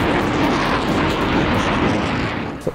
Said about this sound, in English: the aeroplane prowling around over the airfield in that fabulous scheme